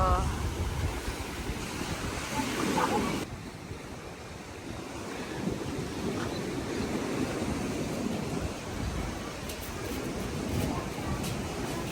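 High-tide ocean waves surge and wash steadily at a beach in Bohol, with loud wind buffeting the microphone and voices talking over the continuous roar.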